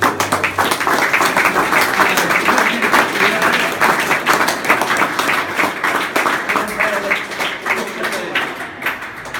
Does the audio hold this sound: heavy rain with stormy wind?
no